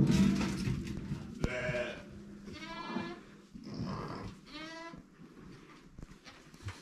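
Sheep and lambs on a Turkish farm bleat repeatedly and loudly at close range, several drawn-out, wavering cries following one another with short gaps, over low barn rumble.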